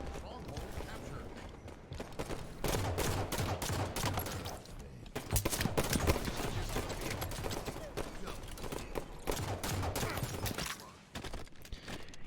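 Dense, rapid gunfire from a competitive shooter video game match, with rattling bursts and explosive shots running almost continuously while a commentator talks excitedly over the action.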